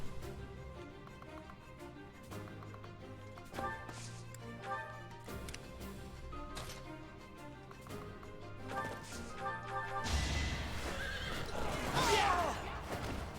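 A horse neighs in Fire Emblem Three Houses: loud whinnies and hoof clops break in over soft game music near the end, after a quieter stretch of steady ticking background sounds.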